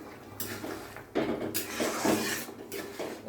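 A cooking pan of Bengali fish curry being lifted off a stove, with short metallic scrapes and clanks of the pan against the burner, close and moderately loud.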